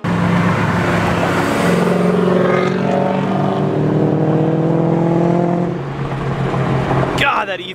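BMW E30 fitted with an LS1 V8 swap driving, a steady loud engine drone with strong low harmonics that holds for several seconds, eases slightly near the end, then rises again as the revs climb.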